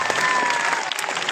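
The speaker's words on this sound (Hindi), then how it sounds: "तो एक बार जोरदार तालियां" Hearty applause from the crowd at a Teachers' Day school celebration, a dense continuous wash of clapping, brief and fairly loud.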